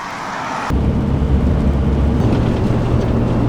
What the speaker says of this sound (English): you might be able to hear all the cars because it is literally in front of a main road